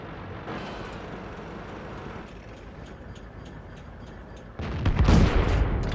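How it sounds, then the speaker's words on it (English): Tank gun fire from an M5A1 Stuart in a tank battle game on Sand River, with a rumbling low background, then a louder blast and crackling burst near the end. "Squeezes off 2 shots, backs up."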